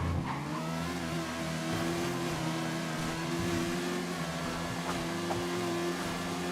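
A motorbike engine in the video game GTA V holds a steady, loud tonal drone at high revs, with slight pitch wavering and no voices over it.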